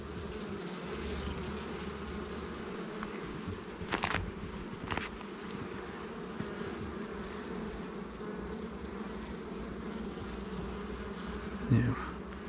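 Honey bees buzz steadily around an open beehive during a colony inspection, a continuous close drone with a few louder passes of single bees near the microphone.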